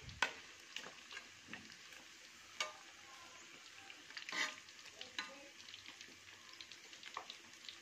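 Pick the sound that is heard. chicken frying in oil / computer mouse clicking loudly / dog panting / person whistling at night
chicken frying in oil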